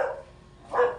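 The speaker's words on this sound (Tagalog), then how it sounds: "Aso ng kapitbahay." A neighbor's dog barks outdoors, two short muffled barks with a brief pause between them, moderately distant.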